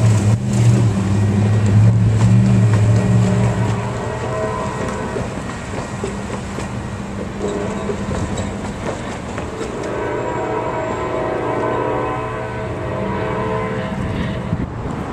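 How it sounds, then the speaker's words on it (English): A northbound Coaster commuter train rumbles past loudly and up close, its low horn blaring at the start, then the steady roar and clatter of railcars continues to the end. "we have a northbound coaster on approach, 3002"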